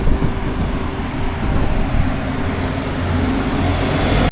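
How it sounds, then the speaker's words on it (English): A tractor crossing a bridge near the town of Çarşamba in Turkey, a steady low engine rumble mixed with road noise and wind buffeting the microphone, continuous and fairly loud with no talking. "Look, tractor on a bridge."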